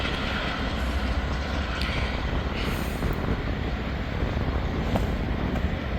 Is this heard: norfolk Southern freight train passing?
yes